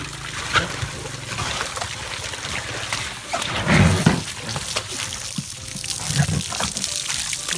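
Splashing, trickling water at a waterfall where a girl plays, with uneven gushes and a few louder bursts over a steady wash of flowing water.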